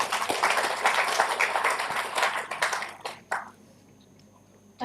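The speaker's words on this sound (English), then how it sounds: "Applause are very weak." Thin applause from a morning conference audience at an education and entrepreneurship programme; scattered clapping for about three seconds that dies away abruptly into near silence.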